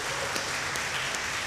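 A church congregation applauds during a Sunday service, producing a soft, steady wash of clapping with a few sharper accents, heard alone without speech.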